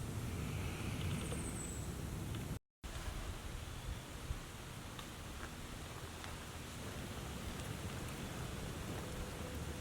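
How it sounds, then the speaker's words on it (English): Steady rain falls through the woods during a rainy, windy Michigan deer hunt, a dense continuous hiss with soft patter that stays even and fairly close throughout, with no voices. "Too bad it's a little very rainy, windy"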